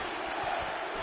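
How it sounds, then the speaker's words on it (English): Arena crowd in the UFC 4 fighting video game reacts as strikes land, a moderate wash of many voices swelling slightly around a mid-point, distant and steady rather than a sharp cheer. "you hear the crowd react every time they come together"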